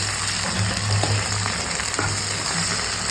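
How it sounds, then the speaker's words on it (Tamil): Onions and tomatoes frying in a pan give a loud, continuous close-up sizzle, with faint stirring scrapes mixed into the hiss. "இப்போ நம்ம என்ன பண்ண போகிறோம்னா கிண்ட போகிறோம்."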